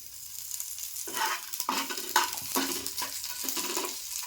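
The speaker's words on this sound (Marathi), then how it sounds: "कांदा आपण व्यवस्थित भाजून घ्यायचा थोडंसं तेल टाकते भाजण्यासाठी" Onions frying in a little oil for a Malvani prawn masala, a continuous sizzle broken by repeated scraping and stirring strokes of a spoon against the pan.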